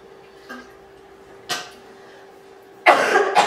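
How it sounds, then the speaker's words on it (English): A woman getting over a cold coughs: two short isolated coughs followed by a louder, harsher burst of coughing close to the microphone, with quiet pauses between. "I think I'm going to have a cough attack, so just bear with me."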